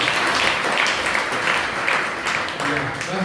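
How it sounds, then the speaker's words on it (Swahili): An audience at a parish youth seminar claps steadily in a dense, even wash of applause, with a voice emerging toward the end. "Tupigie makofi tena kwa"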